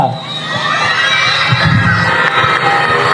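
Large group of schoolchildren at a government school rally shouting and cheering together, a loud continuous roar of young voices close by.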